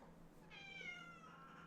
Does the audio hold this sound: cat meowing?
yes